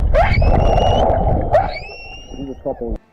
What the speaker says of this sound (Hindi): 2 व्हेल्स गाना गाने लगी और वो भी खुशी में